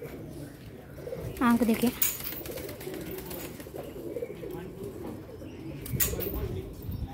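Pigeons coo softly in a loft among other birds, with a short, louder burst of calling, while someone talks over much of it.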